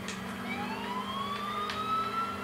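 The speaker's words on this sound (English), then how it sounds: "Siren on." Emergency vehicle siren in GTA IV, a rising wail climbing in pitch over a steady engine rumble, loud and close with no talk over it.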